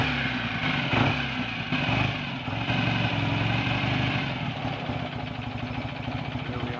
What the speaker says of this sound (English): Here we are on a slow tick over with, I promise you, a hot engine, and the oil pressure light is off.